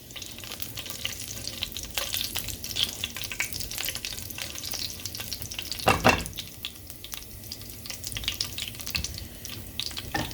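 Chicken frying in a karahi for black pepper chicken karahi makes a dense, continuous sizzle with scattered stirring scrapes and one louder clatter midway.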